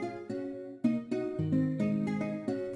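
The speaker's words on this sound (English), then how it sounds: "So with the fruity chorus," Nylon guitar preset in FL Studio with a chorus effect plays a short run of plucked sebene-style notes, slightly shimmering and widened, steady and soft with no voices.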